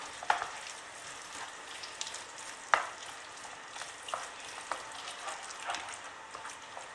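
Moussaka sauce with herbs and parsley sizzles quietly in a frying pan while being stirred, with soft scraping and a few sharper clinks of the utensil against the pan.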